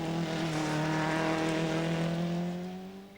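A Mitsubishi rally car at the 1988 Cartel Rally races through a misty forest stage, its engine holding a loud, sustained, rising drone close by before fading slightly at the end.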